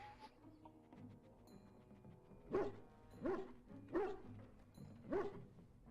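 A puppy in Dragon Age Origins gives four or five short, clear barks at a steady pace, after a stretch of quieter background and faint clatter.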